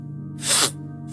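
A single sneeze from someone with allergies, a short sharp burst rising and fading within about a quarter second over a low steady background hum.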